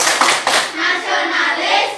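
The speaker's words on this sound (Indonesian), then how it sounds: "Kita tepuk PPK terlebih dahulu ya." A classroom group does the tepuk PPK, a rhythmic clapping chant, with a few sharp claps at the start followed by children's voices chanting together.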